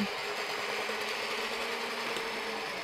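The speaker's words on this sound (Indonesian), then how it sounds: "Mixer sampai adonannya ini kalis elastis" An electric mixer kneads donut dough until it turns smooth and elastic, making a steady, fairly faint motor whir with a constant hum and no pauses.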